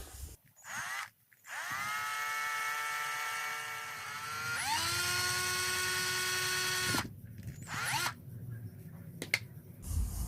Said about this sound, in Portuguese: Vou pegar uma fresa como essa aqui, ó,